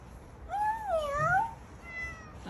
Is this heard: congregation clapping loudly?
no